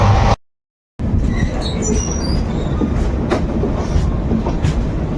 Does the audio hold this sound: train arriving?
yes